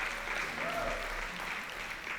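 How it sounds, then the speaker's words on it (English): Convention audience applauding, a dense steady wash of clapping from a large crowd in a hall, continuous and fairly even, with faint voices mixed underneath. "Let's give them a round of applause."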